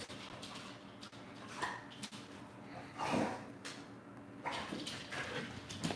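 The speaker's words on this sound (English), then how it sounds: "My dog is playing with a toy, by the way. It's gonna be real loud here." A dog plays with a toy indoors, with bursts of snorting, huffing and rustling scuffles that come in irregular clusters, fairly faint and close.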